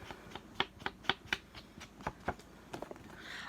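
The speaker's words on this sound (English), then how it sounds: "I am just going to distress along the edges of this piece of paper to give it a bit more" Distress ink is worked along the edges of a sheet of paper: a close run of quick, crisp dabbing scuffs in an uneven rhythm, about a dozen strokes.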